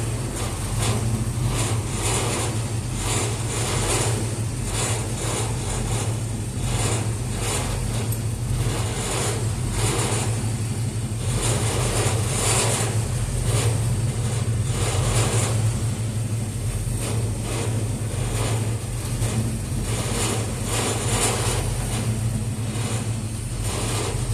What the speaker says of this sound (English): Maybe I can get a first gear pull.